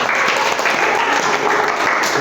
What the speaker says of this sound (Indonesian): tepuk tangan untuk yang jawab semuanya